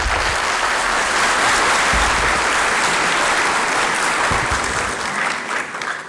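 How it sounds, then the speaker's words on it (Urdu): Steady, dense applause from an audience at a talk on democracy in Pakistan, loud and sustained for several seconds before thinning out slightly near the end, with no speech over it. "وقفہ میں نے تالیوں کے لیے دیا تھا."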